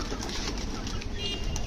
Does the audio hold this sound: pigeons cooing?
yes